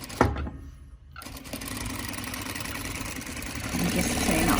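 A sewing machine runs steadily while sewing a band onto the top of a scrub cap, a close continuous mechanical whir after a brief pause at the start.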